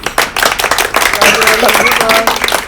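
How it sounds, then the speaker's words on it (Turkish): People in a village gathering clap for a mayor during a toy-distribution event, with loud, close, uneven hand claps mixed with overlapping voices and chatter. "Başkanımıza bir alkış bence."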